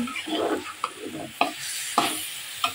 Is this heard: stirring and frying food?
yes